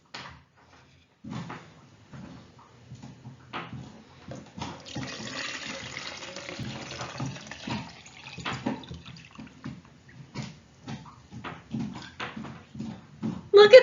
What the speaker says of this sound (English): I'll pour water from the bottle into container A to confirm our predictions.